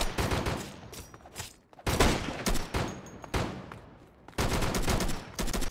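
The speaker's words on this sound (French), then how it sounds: "ça tire le sniper" Rapid bursts of sniper fire in the Roblox game Flag Wars, loud and close, coming in several dense volleys separated by short pauses.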